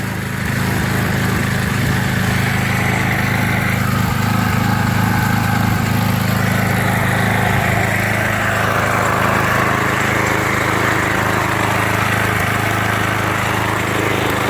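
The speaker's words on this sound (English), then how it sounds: "At this point I'll kick on the fan in full blast mode and you'll hear the motor pull down." A steady, loud motor hums and drones continuously under load while a fan runs at full blast, with a constant low roar and no talking.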